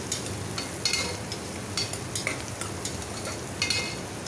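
Tomato is stirred and sautéed in a pan for nonbu kanji, a soft steady sizzle with light scraping and utensil taps against the pan at close range, no voice over it.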